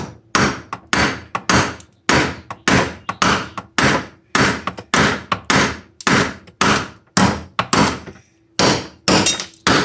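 Heavy metal-on-metal hammer blows on a flywheel of a 6.5 hp Tecumseh mower engine, about twenty sharp strikes in a steady rhythm with brief pauses, close and loud, with no talking.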